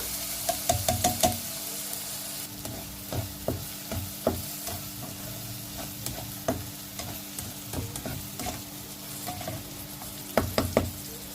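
Ground red chili and onion paste frying in oil in a pan, a steady sizzle punctuated by repeated stirring knocks and scrapes, close and fairly loud, with no talking.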